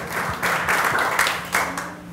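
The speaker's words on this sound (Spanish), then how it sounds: "Gracias por la presentación y por los cálidos aplausos" An audience claps at a book presentation for a novel, a dense burst of applause from a room of people lasting a couple of seconds.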